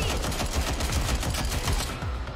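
Rapid automatic gunfire in Watch Dogs Legion rattles continuously at close range, dense overlapping bursts filling a short stretch with no pause.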